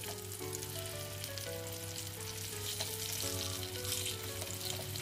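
Egg kofta pieces frying slowly in oil over a low flame: a soft, steady sizzle and crackle, fairly quiet, under a constant low hum with faint tonal whine, no voices.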